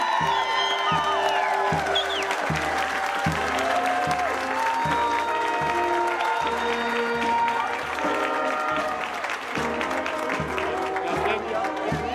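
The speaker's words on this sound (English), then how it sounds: "Have another round of applause for today's graduates, the class of 2023." A crowd at the Woodlands Middle High School class of 2023 graduation keeps up loud, continuous applause with scattered cheers, while steady, rhythmic music pulses underneath throughout.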